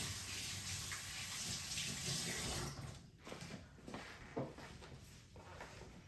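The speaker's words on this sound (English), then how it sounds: "Wash with dish soap to get the greasy off." Tap water pours steadily while a greasy spatula is washed with dish soap, then the flow stops and wet scrubbing and handling noises follow, close by.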